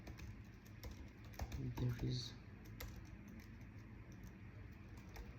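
Keys clatter on a computer keyboard during a live coding interview. The typing is quiet and quick, with a brief burst of louder keystrokes, and a person speaks over it.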